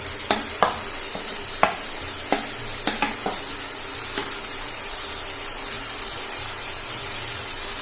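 Fried potatoes and green beans sizzle in a pan with a steady, even hiss, broken by about a dozen crisp little clicks and taps of the pieces and a spoon against the metal.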